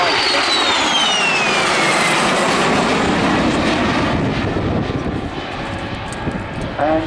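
A MiG-15 and a de Havilland Vampire, Cold War jets, fly at Southport airshow with a loud, continuous jet roar and a descending whine, while an announcer talks throughout.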